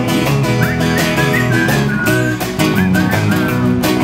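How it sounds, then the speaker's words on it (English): Someone whistles a wavering melody over a busy, loud musical backing with steady beats. "People like whistling."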